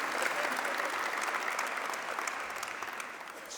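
A crowd at a transit event with a state governor breaks into steady, full-room clapping that holds evenly for a few seconds and softens slightly toward the end.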